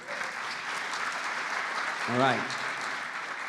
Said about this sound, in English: Can I have a round of applause,